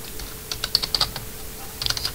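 Quick keystrokes tap on a computer keyboard in two small clusters of crisp clicks separated by a short pause, close and clear over a quiet background.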